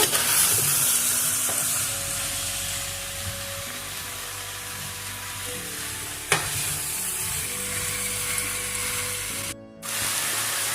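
Indian aloo gobi gajar of potatoes, cauliflower and carrots stirred as it fries in a pan, with a steady close sizzle and occasional scraping knocks of the spoon, and no talking.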